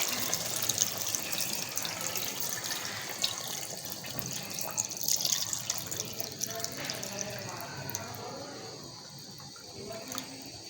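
A full jug of water poured into a pressure cooker while making nihari, a continuous splashing, gurgling stream that runs steadily and tapers off near the end, fairly quiet and close.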